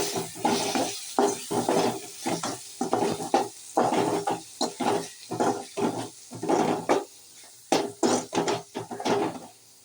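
Tomato meal maker gravy being stirred in a pan, giving a steady run of scraping, wet stirring strokes with a soft sizzle underneath, close and moderately loud with no talking.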